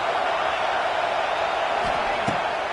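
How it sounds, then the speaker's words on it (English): Stadium crowd noise from the NCAA 26 college football video game, a dense, steady roar of many voices held at constant loudness, with a couple of faint thumps near the end. "This crowd bringing the energy and noise early."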